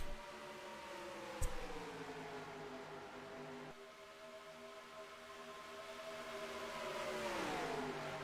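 Race cars from a NASCAR-style racing game at Kansas, including the 48 and 82 closing in, roar steadily with rising engine tones that climb and sweep as they accelerate; there is one brief sharp knock early on and no talking.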